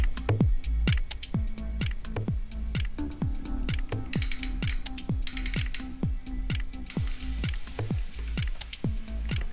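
Rapid ratcheting clicks of a wrench tightening a bolt on a track bike during a build, a steady run of sharp mechanical ticks close by with a low hum underneath.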